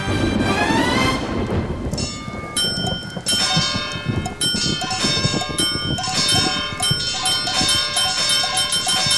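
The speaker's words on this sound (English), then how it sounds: "Seven days later, it started to rain." Rain and rolling thunder in a children's Noah's Ark read-along, loud and continuous with bell-like musical tones layered over the storm, no talking.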